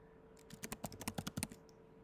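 Quick burst of about a dozen crisp keystrokes on a computer keyboard, typing an address, close and fairly quiet.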